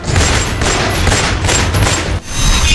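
Dramatic gunfire sound effect for a news intro: rapid, loud bursts of shots layered in a continuous fusillade with deep booms, briefly dipping before resuming.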